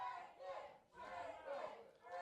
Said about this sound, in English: the crowd They're all like, calling yeah. for him to break his arm